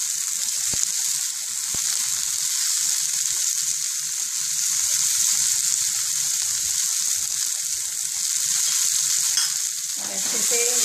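Okra frying in a pan with turmeric added, a steady close sizzle with light scraping stirs throughout and a brief clatter near the end, with no talking.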